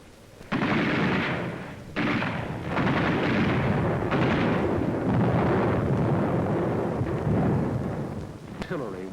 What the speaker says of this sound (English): they encountered mines and automatic fire from pillboxes.